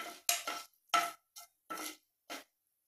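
A spoon stirs fenugreek seeds frying in oil in a pan for Chettinad vathal puli kulambu. About six separate scraping strokes ring out with silence between them and little audible sizzle.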